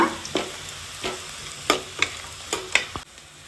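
Onions cooking in a pan for egg puri usli (puri uppittu), a soft steady sizzle broken by about seven sharp spatula scrapes and stirs at irregular intervals, close by with no talking.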